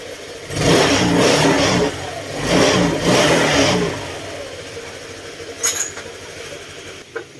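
A Honda Click 125 scooter engine revs up in a few loud surges, then drops back to a quieter idle with some clicks near the end.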